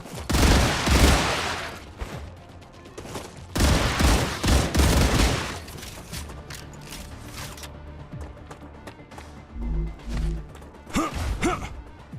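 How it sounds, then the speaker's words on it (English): Gunfire from a ranged enemy unit hidden in a rock in the Star Rupture factory-building game, heard as loud bursts of rapid shots with mechanical clanks and quieter gaps between volleys. "it's a ranged unit and he's shooting out of it"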